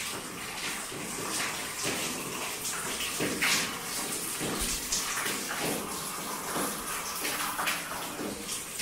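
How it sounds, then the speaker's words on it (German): Water dripping and splashing through the ceiling of an abandoned porcelain factory, a continuous watery patter with irregular louder drops, heard alone in a reverberant space. "Wie krass das hier durch die Decke tropft."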